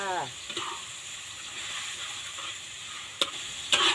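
Rustic home-style holy basil chicken stir-fried in a pan, a steady close sizzle and hiss running throughout with a couple of sharp scrapes of stirring near the end, no voices.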